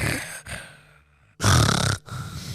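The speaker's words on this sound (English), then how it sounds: "like full snoring" A person asleep in bed snores loudly, a short harsh snore rasping in the middle of the stretch with quieter breathing before and a second rougher breath after, close by with no talk.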